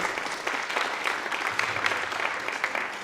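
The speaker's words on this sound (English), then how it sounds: "let's give them a round of applause, please" Sustained audience applause at a high school movie festival, a steady dense wash of many hands clapping at moderate loudness throughout, without talk.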